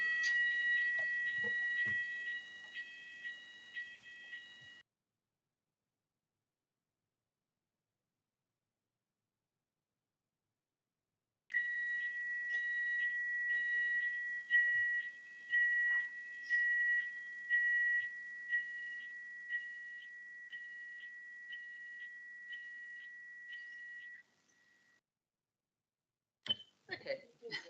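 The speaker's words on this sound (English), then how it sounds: "Fire alarm." A building fire alarm in a council licensing hearing room sounds a repeating electronic beep-tone pattern, loud and steady, stopping for several seconds before resuming with a long continuous pulse sequence, then cutting off.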